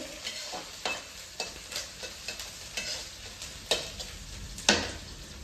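A tadka of spices sizzles in hot oil for Maggi noodles, with a soft sizzle broken by regular scraping and tapping strokes of a stirring spoon against the pan. The sound is fairly faint and close, and no one speaks.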